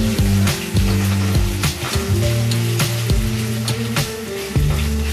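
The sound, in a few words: potatoes frying in oil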